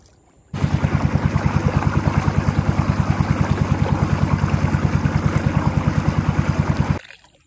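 A boat engine on a river chugs into life and runs at a fast, even, pulsing idle for several seconds, close and loud, then cuts off abruptly.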